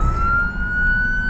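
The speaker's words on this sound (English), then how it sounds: "Go turn that siren off." A steady, high siren tone holds over a low vehicle rumble, loud and close, with no talking.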